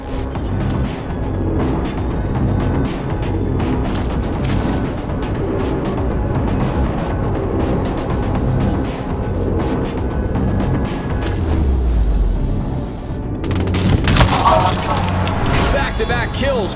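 Gunfire and explosions from the video game Showgunners, a dense, steady barrage of shots and mechanical clatter with a louder burst near the end, mixed under commentary.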